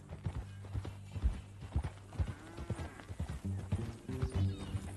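Horse hooves clip-clop steadily in an uneven rhythm, close by, with a low rumble and a brief whinny-like tone, from the video game Red Dead Redemption 2.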